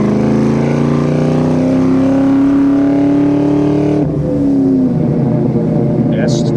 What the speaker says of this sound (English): You hear the supercharger there.